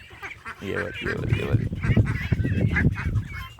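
Ducklings and a large duck quack and honk repeatedly on an open farm, close and lively, while someone talks over them.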